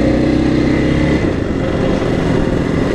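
A 125cc motorcycle with an aftermarket exhaust revs loudly and close, holding a buzzing drone that dips slightly partway through, with no talk.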